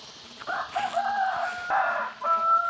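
A rooster crows several times close by, with short clucks from chickens between the calls, and no talking.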